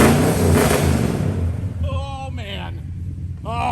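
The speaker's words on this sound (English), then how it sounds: "Listen to that rumble." A 1970 Dodge Charger 500 V8 idles with a deep, loud rumble, revving slightly near the start, while a voice whoops and speaks over the engine in the second half.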